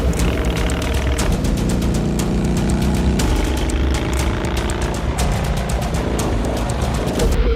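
A Honda Shadow VT600 motorcycle engine runs hard during a speed test, loud and close, with a dense, steady rumble and rapid popping exhaust pulses throughout and no talk.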